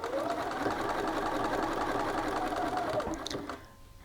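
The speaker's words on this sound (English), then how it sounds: "We are sewing over the arm side here, the armhole seam, and into the sleeve" A sewing machine stitches an armhole seam into a sleeve, running with a steady mechanical whir for about three seconds before stopping and falling away to near quiet.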